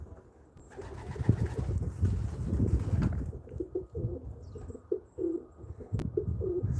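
Pigeons coo nearby in a low, repeated rhythm. The cooing is fairly close and clear, with some lighter rustling in the background, and no voices.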